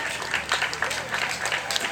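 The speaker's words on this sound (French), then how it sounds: "Arrivée une nouvelle fois avec un tonnerre d'applaudissements." Spectators applaud at the finish of a Saint-Brieuc Agglo Tour elite national road cycling stage in Plérin, Côtes d'Armor; a faint, distant patter of clapping runs beneath a race commentator talking over it.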